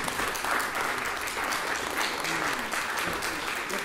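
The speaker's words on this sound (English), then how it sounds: "Raisa, you deserve a round of applause." Steady applause from an audience, sustained clapping throughout, fairly loud and close.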